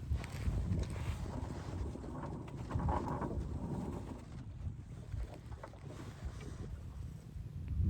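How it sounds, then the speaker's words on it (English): A sailboat on a beam reach gliding into a rocky cove, with steady wind buffeting and soft water rushing along the hull, moderately faint and continuous. "So I make my turn and basically transition to a beam reach and then sail into this cove."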